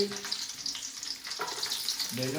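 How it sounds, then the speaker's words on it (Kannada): Garlic sizzles and crackles steadily in a hot frying pan, with faint stirring scrapes over the hiss, close and fairly quiet, no voices. "ಫಸ್ಟು ಬೆಳ್ಳುಳ್ಳಿ ಹಾಕಂತ ಇದ್ದೀನಿ"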